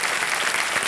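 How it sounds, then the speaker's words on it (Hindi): Brief burst of dense studio-audience clapping on the Kaun Banega Crorepati game show set, steady and loud for under a second. "एक बार जोरदार तालियां बज जाए अंकिता जी के लिए"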